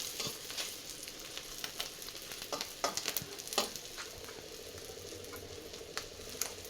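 Egg toast frying in a pan, a steady soft sizzle with occasional sharper crackles and pops, fairly quiet and heard alone.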